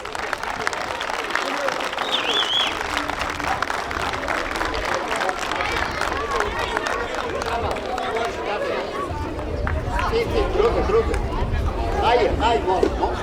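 Crowd applauding at a children's football festival award ceremony, steady dense clapping mixed with crowd chatter and voices throughout, swelling slightly near the end.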